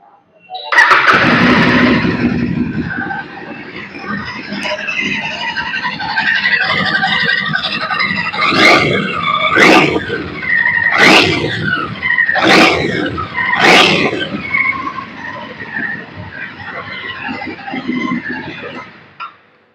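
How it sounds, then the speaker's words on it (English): A Royal Enfield 650cc motorcycle engine idles loudly and then revs sharply several times in quick succession, the exhaust barking close by before settling back to a rumble. "we're going to leave you with the sound of the motorcycle"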